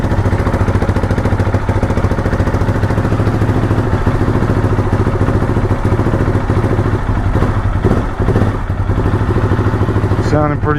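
A Husqvarna 701 single-cylinder motorcycle engine with a newly installed LPR cam runs steadily and loudly at idle, its even thumping pulse continuous throughout the clip.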